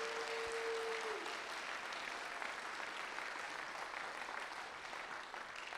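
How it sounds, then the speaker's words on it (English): Audience applause at a conference opening address, a steady wash of many hands clapping that holds evenly for several seconds, heard from a distance at a fairly quiet level. "Can I have a big round of applause for Sam, Danny, Lockie, and Anne-Marie"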